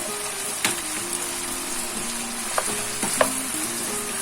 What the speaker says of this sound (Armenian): միսը սկսեց տապակվել և հիմա ավելացնում ենք վրան սոխը